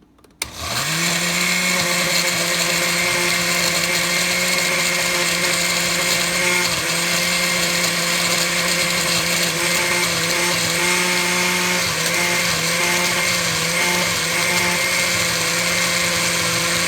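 Blender grinding Haitian epis spice mix, a loud continuous motor whine that starts abruptly and holds steady for over fifteen seconds with slight pitch dips as the load shifts.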